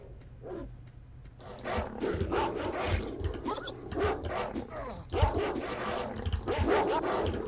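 Dogs in the video game STALKER: Shadow of Chernobyl Enhanced Edition, snarling and barking in repeated bursts that sound close and fairly loud over continuous game ambience, with bursts of gunfire or impacts mixed in.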